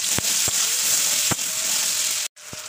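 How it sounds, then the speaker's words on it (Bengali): A whole onion dropped into hot oil left from frying fish sizzles loudly and steadily, with a few sharp pops and crackles and a brief dip midway before the frying resumes. "এবার এই তেলে আমি দিয়ে দেবো একটা গোটা পেঁয়াজ।"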